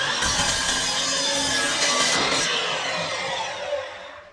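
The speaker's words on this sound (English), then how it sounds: "I can just go ahead and cut each one off just to make it a little bit easier to manipulate in the bandsaw" A bandsaw cuts wood pieces for a platter or plate stand, giving a loud, continuous rasping buzz that holds steady for a few seconds and then fades as the cut finishes.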